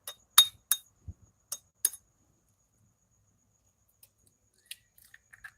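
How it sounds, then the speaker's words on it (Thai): Eggs are cracked into a bowl while cooking: several sharp, close shell taps and clicks come in quick succession, followed by quiet pauses and a few faint clinks. "ผมจะตอกไข่ใส่นะครับ"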